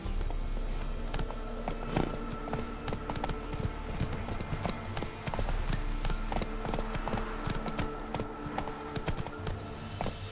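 A horse gallops in The Witcher 3 on PS5, its hooves beating a fast, steady clip-clop throughout over a continuous game soundscape.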